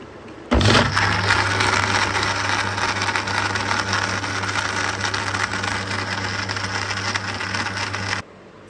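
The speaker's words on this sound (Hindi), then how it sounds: "अब इसके अंदर डाल देंगे हम आइस क्यूब, इसको ठंडा करने के लिए। इसको फिर हम ब्लेंड करेंगे।" An electric blender blending mint lemonade with ice cubes starts abruptly and runs loud and steady for nearly eight seconds with a constant motor whine and grinding rattle, then cuts off sharply, with no talking.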